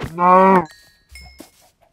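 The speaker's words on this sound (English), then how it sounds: "There's cows up here." A single long, loud moo from a cow nearby in a survival video game, followed by quieter rustling and faint outdoor sounds.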